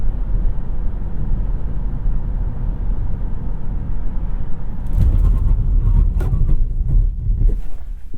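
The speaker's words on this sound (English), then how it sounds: "we'll do a little 60 to 0 emergency brake stop and 0 to 60 launch." A 2020 BMW X5 runs on the road with a steady engine and tyre roar, then a busier burst of mechanical and wind noise around the hard 60-to-0 emergency stop and 0-to-60 launch, loud and close with no talking.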